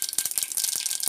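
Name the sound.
mustard seeds added to hot oil for tempering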